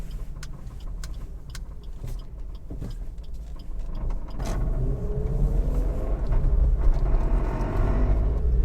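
A Maruti S-Presso VXi hatchback drives slowly through a tight turn, its engine a steady, close, low rumble that swells slightly partway through, with no talking.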